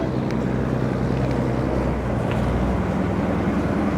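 A traditional kaito ferry on the harbour crossing to Ap Lei Chau in Hong Kong: a steady low engine rumble and water wash, with wind buffeting the microphone and no talk.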